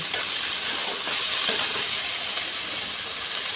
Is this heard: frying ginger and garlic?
yes